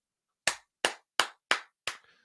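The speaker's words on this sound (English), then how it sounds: "She deserves a clap." Five sharp, isolated hand claps ring out at an even pace, each crisp and close with a quick decay, the last one trailing into a faint brief voice.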